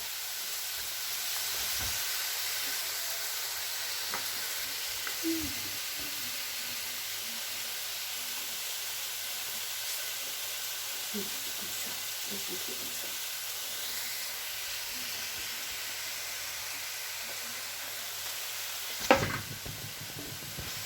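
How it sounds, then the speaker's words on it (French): Food frying in olive oil in a pan for a tartiflette tart, a continuous gentle sizzle and hiss with occasional light stirring scrapes and a sharper clack near the end, no talking. "Alors, vous remuez assez souvent."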